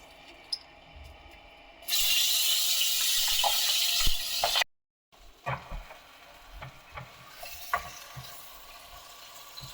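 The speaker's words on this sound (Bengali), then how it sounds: "এবার পেঁয়াজ কুলিটা ভেজে নেব" Onion stalks dropped into hot oil set off a loud, steady sizzle lasting a few seconds, which breaks off and then settles into quieter crackling with scattered stirring clinks.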